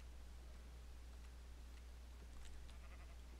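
Sheep bleating in the video game Minecraft, a few short bleats over a steady low hum, fairly faint and with no talking.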